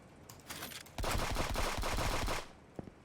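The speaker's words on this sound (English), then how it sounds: "Good shooting, kid." Rapid automatic gunfire in a fast-paced online shooter, a dense burst of about a second and a half after a few scattered shots, moderately loud with no talking.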